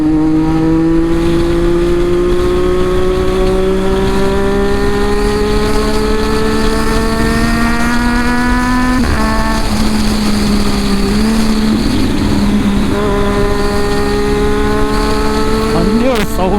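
A Triumph Daytona 675R sport motorcycle engine and exhaust rev loud and close, pitch climbing steadily then dropping sharply around the midpoint before rising again, ending in a quick blip.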